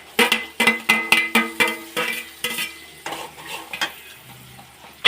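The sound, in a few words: finely chopped onion added to hot pan, frying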